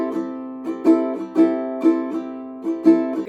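Ukulele played fast in an island strum of down, down, up, ghost strum, up, down, up, giving bright strummed chords with regular accented attacks about every half second, close and alone.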